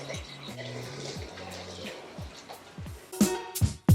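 Water pours into a bowl of flour for sourdough, a close trickling and splashing that builds into a louder gush toward the end, with faint bumps and some background hum.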